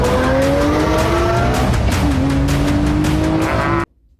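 A Lamborghini Murcielago LP640 engine howls loud and close, its pitch rising in two sweeping pulls with a brief dip between them, then cutting off abruptly into near silence.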